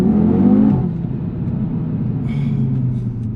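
A 2019 Audi TT RS engine revs low in its range, a loud throaty rise that falls back after the first second, then settles into a steady rumbling drone.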